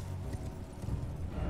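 Spectral Steed horse summoned in Elden Ring, its hooves clip-clopping in a steady close rhythm, loud against a dense low game soundscape with no talking.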